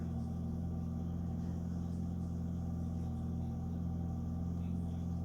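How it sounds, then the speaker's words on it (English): A car engine idles steadily outside an indoor room, a low continuous rumbling hum at moderate-to-faint level without pauses. "Sorry about the noise outside. There's a car running right out there."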